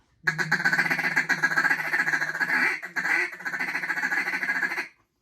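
A duck call produces a rapid, continuous feeder chuckle, a close, loud rolling stream of quacking clucks that runs for about five seconds with a brief break midway.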